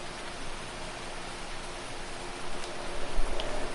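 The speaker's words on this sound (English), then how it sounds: "Why does it sound like it's raining in-game?" Steady rain hisses down in Farming Simulator as a dense, even wash of noise that thickens slightly toward the end, with no voices.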